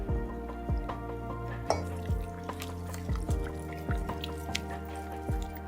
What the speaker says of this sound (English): We're going to slowly pour it in, about 1/4 cup at a time.